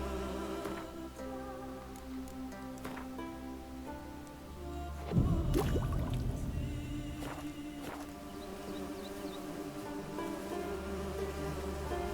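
Bees buzzing in The Witcher 3 video game, a steady faint drone under ambient game sounds, with a louder rustling thump partway through.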